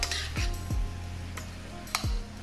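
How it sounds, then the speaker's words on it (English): Crab meat stir fry simmering and sizzling steadily in a pan, with a few clinks and scrapes of a utensil against the pan breaking through the low bubbling. "we gonna let this simmer for about 5 minutes"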